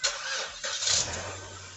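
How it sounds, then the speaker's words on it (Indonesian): A Chevrolet Trax engine cranks and catches during a transmission fluid flush, a short starter whir followed by the motor settling into a low, steady idle close by. "Oke, setelah mesin nyala tuh"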